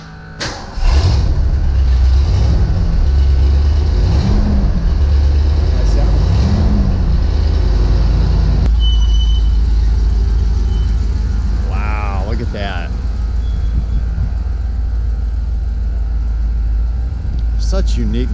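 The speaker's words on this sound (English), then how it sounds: "I'll turn the car on. You can hear how the dual exhaust is, how throaty it is." A Bricklin car engine runs through its throaty dual exhaust, a loud, deep steady rumble with a few revs early on, while people talk nearby over it.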